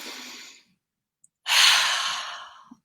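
Two close, soft breaths of air, a short one fading out and then a longer, fuller inhale-like rush after a silent gap, with nothing else in the background.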